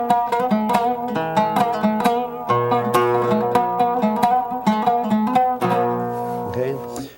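An oud plucks a typical 8/8 rhythm, a run of bright close notes with a couple of sustained lower tones, heard alone with no voices over it.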